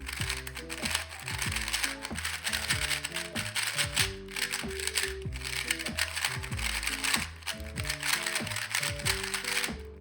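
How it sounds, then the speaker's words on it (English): Boron-treated V100 speed cube being turned through solves: continuous rapid rattling, ratchety plastic clicks running for the whole stretch beneath background music. "And this is what the boron treated version 100 sounds like."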